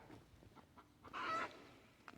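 A white hen clucking outdoors, with soft scattered clucks and one louder, brighter squawk in the middle, fairly close and with no talk.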